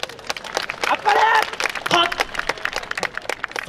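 A crowd at the Yatose Akita festival dance at the Omachi venue claps along in quick, uneven rhythm. Brief louder bursts of applause rise over a busy, lively crowd background.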